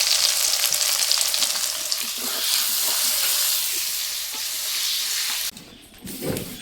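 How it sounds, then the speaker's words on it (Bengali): Fish belly pieces frying to render their oil, a loud dense hissing sizzle that runs steadily for several seconds before cutting off abruptly, followed by a brief muffled clatter. "এদিকে মাছের তেলটা বানাচ্ছি,"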